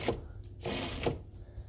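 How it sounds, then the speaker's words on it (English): Sewing machine stitching down premade binding on a quilt sandwich with a quarter-inch seam allowance, running in two short bursts of rapid mechanical whirring separated by brief pauses, close and fairly quiet. "I'm going to start sewing the binding down."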